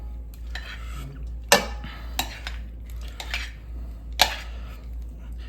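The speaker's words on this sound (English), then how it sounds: "And what we're going to do is put our Parmesan in here. We're going to stir this all up." Parmesan is stirred into a mushroom risotto in a pan, a spoon knocking and scraping against the pan in a few sharp, close clinks over a quiet background.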